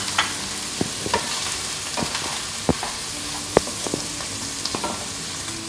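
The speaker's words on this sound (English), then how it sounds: "As the bacon is starting to brown, I'm going to add the mushrooms to the pan." Bacon and mushrooms cooking in a pan make a soft, steady sizzle, broken by scattered scraping clicks as a utensil stirs them.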